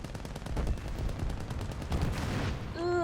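Rapid tank gunfire in the video game War Thunder, aimed at anti-air vehicles: a long, fast burst of loud shots that stops near the end. A brief rising tone follows the burst.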